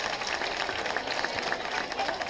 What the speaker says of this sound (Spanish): Un aplauso fuerte para todos ellos y para todos vosotros.